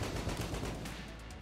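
Rapid bursts of gunfire and explosions from the Enter the Gungeon video game, dense crackling shots layered over low booms, loud and continuous before easing slightly at the end.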